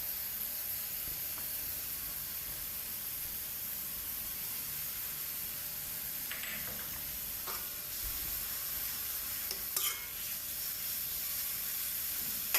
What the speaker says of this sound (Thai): ผัดคลุกเข้าให้เครื่องปรุงเข้ากันดีเลยนะครับ